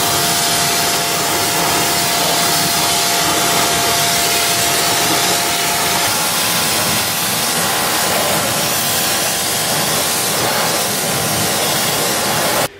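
Pressure washer blasting cleaner off the alloy wheels of an Abarth, a loud unbroken hiss and spray of water lasting the whole stretch, close and alone with no talk.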